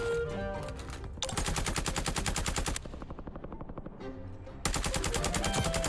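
Rapid automatic gunfire from old weapons in the video game Warzone, several loud sustained bursts of machine-gun fire separated by brief pauses, close and dominant.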